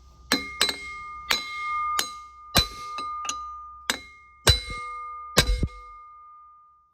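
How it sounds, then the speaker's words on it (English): Sharp metallic clangs of a chisel knocking a cast iron Model A Ford brake drum loose from a press, about nine spaced ringing strikes, some in quick pairs, with a steady tonal hum underneath. "So we always have to take a chisel and break it loose."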